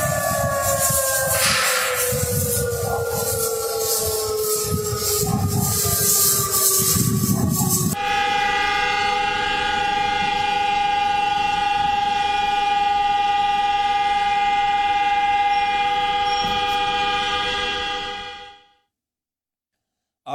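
A loud, sustained air raid siren wail, its pitch sliding downward at first, then holding a steady droning tone for a long stretch before cutting off.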